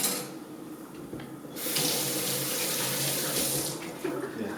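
Water runs steadily from a sink tap into a darkroom sink for a hand wash during 4x5 C41 film processing, a continuous splashing flow that grows louder and fuller partway through.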